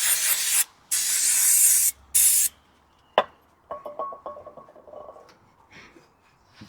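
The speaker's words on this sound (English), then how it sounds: "just spray." Three close hissing bursts of aerosol spray onto a Land Rover Discovery front brake disc, short, long, then short, followed by quiet clattering and handling sounds.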